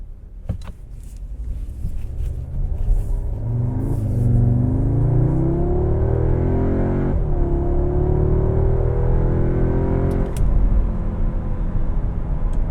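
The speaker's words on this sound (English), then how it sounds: "with this being the first ever acceleration for the S3 on the channel" A 2022 Audi S3 accelerates hard, its engine note rising steadily in pitch through the gears with a brief shift around the middle, a deep throaty drone throughout.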